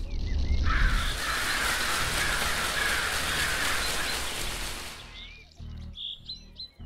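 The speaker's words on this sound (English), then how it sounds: "You just touched it and the birds went crazy." Crows and other birds in the woods beside a giant oak at night burst into loud, dense cawing and chirping for several seconds. The noise then cuts off to a few scattered calls.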